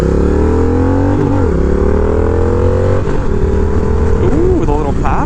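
A Honda Rebel 1100 motorcycle with an aftermarket exhaust revs loud and close, its engine note rising and falling, with a sharp pop cracking out near the end of a rev.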